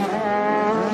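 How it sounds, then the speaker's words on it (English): Motocross bike engine revving at a Moto 2 pro motocross race, a steady high-pitched buzzing whine held for a moment, close and loud. "You can hear the bike revving up."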